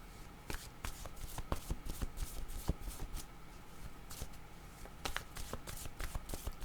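Cards shuffled for a tarot-style card reading, quick riffling flutters and soft slaps in close succession, near and quiet, with no talking over them.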